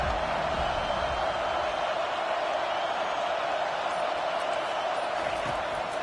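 A packed stadium crowd in an NCAA football video game roars in a steady, dense wash of cheering from start to finish, with no clear breaks or swells.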